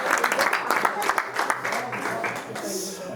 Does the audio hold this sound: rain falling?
no